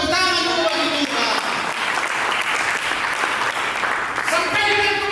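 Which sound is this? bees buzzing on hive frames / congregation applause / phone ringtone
congregation applause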